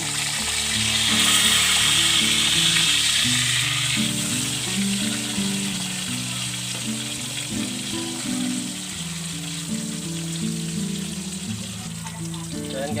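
Steady, loud sizzling of tilapia frying in hot oil, continuous throughout with a faint hum underneath and no talking.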